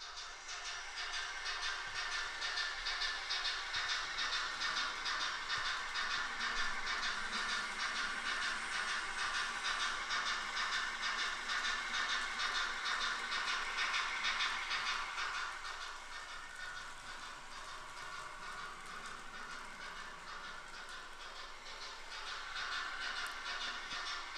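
Sound decoder in a Dapol A4 N gauge model locomotive, giving a steady steam-style chuff and hiss that runs continuously, close and fairly even, easing slightly midway, with no talking.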